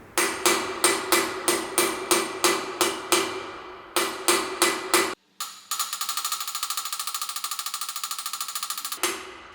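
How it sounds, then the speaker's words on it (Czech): Sharp metallic hammer strikes driving a bearing into a Kawasaki Z750 motorcycle, a dozen or so blows in a steady rhythm, then a pause and a long rapid run of lighter ringing taps. "ty rany tím kladivem změní zvuk"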